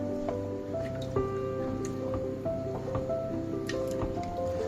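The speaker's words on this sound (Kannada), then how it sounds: "ಇವಾಗ ಇದನ್ನೆಲ್ಲ ಚೆನ್ನಾಗಿ ತಿರುಗಿಸ್ಕೊಳ್ಳೋಣ" Tomato rice and water are stirred in a pressure cooker pot, giving soft wet squishing and dripping sounds in a steady, quiet rhythm under faint background tones.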